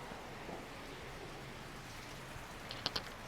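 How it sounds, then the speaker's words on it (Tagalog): Heavy rain that has kept falling without a break since the day before, a steady, fairly faint wash of broadband hiss with no voices, and a few small drips or taps near the end. "Walang tigil ang ulan po"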